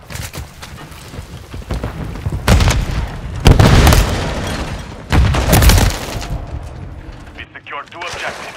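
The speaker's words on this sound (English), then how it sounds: "Frag out!" A frag grenade blast in Call of Duty: Modern Warfare III, heavy booming bursts rolling through a loud firefight with gunfire and shouted callouts around them.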